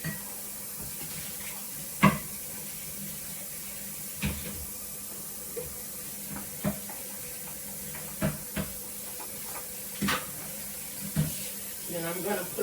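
Tap water running into a sink while a butter measuring cup is rinsed, a faint steady trickle broken by several soft knocks and clinks of the cup, with quiet room noise.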